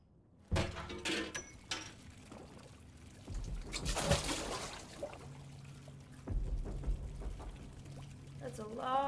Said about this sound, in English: That's a lot of water.